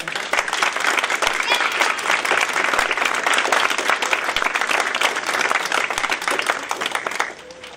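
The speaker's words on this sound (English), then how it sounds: "could you please give them another round of applause?" A crowd at a Christmas show held by a women's club in Lacey gives a full round of applause, loud and sustained, with many hands clapping in a thick, continuous wash that fades out near the end.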